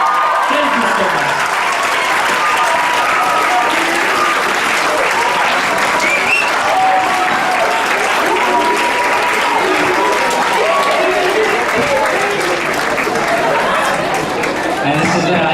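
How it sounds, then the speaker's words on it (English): An audience at a 2019 conference closing ceremony applauds loudly and continuously, a dense wash of clapping with some chatter mixed in. "please give the Exco a huge, huge round of applause for all the work they've done"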